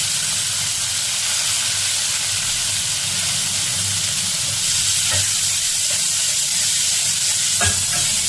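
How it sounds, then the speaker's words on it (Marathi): Onion frying in a pan for a Bombay duck masala makes a steady loud sizzle, with occasional stirring clinks and scrapes near the end. "मसाला भाजायला टाकतो. कांदा टाकते फ्राय करायला."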